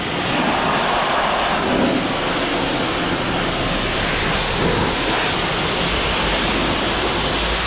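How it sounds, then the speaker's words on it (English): A high-pressure water jet sprays onto old hardened concrete being cleared with concrete dissolver, a loud, continuous broadband roar that holds steady throughout with no talk. "We'll keep the high pressure water away from the RFID switch."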